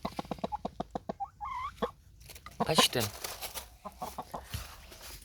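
A chicken clucks and squawks in a rapid, uneven series, close and fairly loud, inside a chicken coop, with a brief spoken word in the middle.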